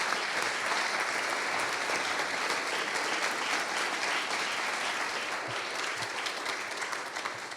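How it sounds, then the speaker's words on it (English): Sustained audience applause for the candidates at the close of a county prosecutor primary forum, a dense steady wash of many hands clapping that runs throughout and fades slightly toward the end. "Huge round of applause for our candidates, please."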